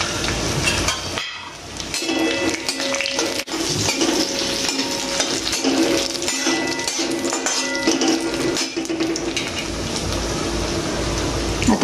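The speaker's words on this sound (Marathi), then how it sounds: "काजू आणि बदाम चांगले परतून घ्यायचे आपल्याला" Cashews and almonds being stirred and roasted in a pan with cloves and cardamom for narali bhat, loud continuous metallic scraping and clinking of a spoon against the vessel over a faint sizzle.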